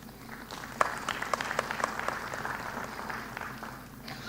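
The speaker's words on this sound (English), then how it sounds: "I want to ask all the workers in this house to clap for the team from NSSF" People gathered in a house at an annual members' meeting of Uganda's NSSF clap for the team, a soft, fairly distant spread of applause with a few sharper claps near the start, lasting about four seconds.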